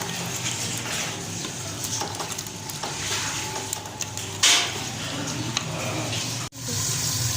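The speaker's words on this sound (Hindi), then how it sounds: "आलू को अच्छी तरह भून रहे हैं" Potatoes fry with garam masala in a pan, giving off a loud, continuous close-up hiss like running water, broken by a brief louder burst and a sudden short drop near the end.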